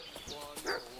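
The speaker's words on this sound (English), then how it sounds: "What's that dog making such a fuss about?" A dog barks and yips in the video game Kingdom Come Deliverance 2, short faint bursts mixed with talk and other game sound.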